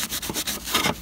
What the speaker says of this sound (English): I'm just giving it a bit of a rub over to clear off and then to dry off